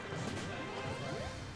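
An up smash attack lands in a Super Smash Bros. match between Wario and Mario, heard as a loud smashing hit with whooshing swishes inside a dense wash of game music and effects.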